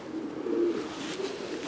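A pigeon from a Dutch breeder's line, kept at a European breeding loft, gives soft low cooing notes, a couple of gentle murmuring coos over faint background noise.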